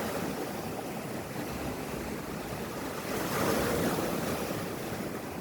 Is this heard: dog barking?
no